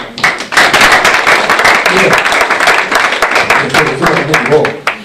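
Church congregation applauding together in a sustained burst of dense, crackling claps, loud and close, holding steady for several seconds with a few sharper individual claps standing out.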